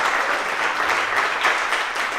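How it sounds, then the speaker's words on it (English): Steady, dense clapping from a congregation fills a church service, a warm round of applause for the speakers, kids, guests and musicians, loud and continuous throughout. "Can we do one more round of applause for all of our speakers, for our kids, for our guests, for our musicians?"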